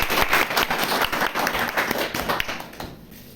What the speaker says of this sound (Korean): 뜨겁게 박수로